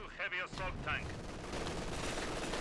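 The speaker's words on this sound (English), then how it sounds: "mortar rounds are coming on down and going to force back those penal troops" Mortar rounds and gunfire in a strategy game battle between Wehrmacht and Soviet forces, with penal troops, grenadiers and T-34-76 tanks, giving a dense crackle of shots and blasts after a voice speaks briefly at the start.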